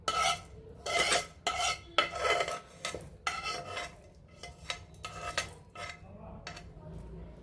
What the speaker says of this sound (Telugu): పచ్చిమిర్చి అన్నీ ఇలా రోట్లో వేసుకొని దంచుకోవాలండి శుభ్రంగా